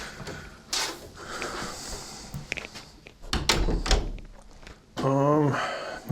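Indoors in a house, a door is closed with several thunks and bumps amid shuffling handling noise, followed by a voice talking near the end.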